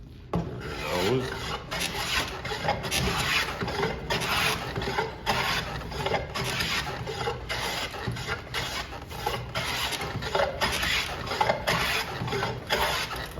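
A hand plane shaves a wooden board in steady, repeated rasping strokes, roughly one per second, close and continuous throughout.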